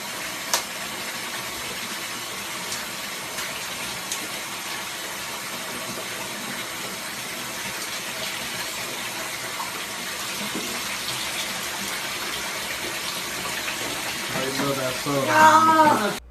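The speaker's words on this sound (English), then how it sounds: "This is how I shower." Water running from a shower in a steady, moderate hiss that continues throughout, rising into louder splashing near the end, with no talk over it.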